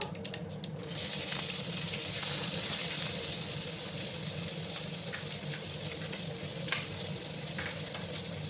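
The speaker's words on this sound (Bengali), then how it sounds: "সেই পেঁয়াজ বাটাটা এবার আমি দিয়ে দেবো।" Onion paste hitting hot oil in a pan while cooking a Bengali potato and pumpkin dish, giving a steady, fairly faint sizzle and hiss that holds throughout with a few small pops.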